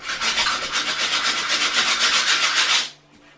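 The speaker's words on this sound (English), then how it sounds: "it seems like I can sand it, but I'm a little worried" Sandpaper rubs over a painted bathroom wall in quick back-and-forth strokes, a close, rhythmic scratchy rasp lasting about three seconds before it stops abruptly.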